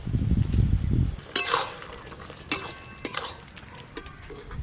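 Water lily stems are stirred in a pan as the water cooks off, with a low bubbling rumble at first, then several sharp scrapes and clinks of the utensil against the metal, fairly close and with no talking.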